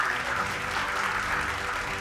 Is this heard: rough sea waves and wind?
no